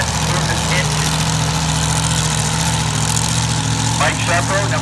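Drag racing car engine at the Woodburn Dragstrip, a loud steady low rumble idling close by with a dense broadband roar, under crowd noise and an announcer's voice.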